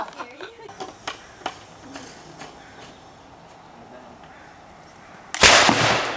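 A homemade potato gun fires once with a loud, sharp blast near the end, after scattered clicks and handling noises, as people talk quietly in the background.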